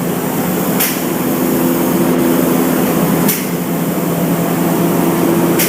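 A spray gun lays tinted conversion varnish onto MDF in a steady, loud, continuous hiss of even strokes, with brief bursts of air and a low mechanical hum throughout, no voices.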